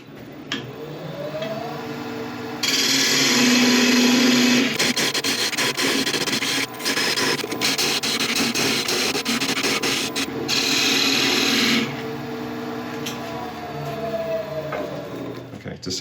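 A woodturning tool cuts back the wood behind captive rings on a spinning lathe piece, a loud rasping scrape that starts abruptly, runs for several seconds with brief breaks, then drops back to the quieter hum of the lathe.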